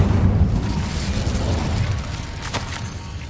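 A Bombardo spell explosion in Hogwarts Legacy, a loud deep rumbling boom that decays slowly over a few seconds with a faint crackle near the end.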